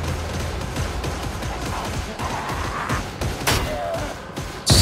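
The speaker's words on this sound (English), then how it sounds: "They shooting at something." Rapid gunfire in the Warhammer 40,000 Darktide video game, a dense run of shots with loud bursts near the end, heard over game noise.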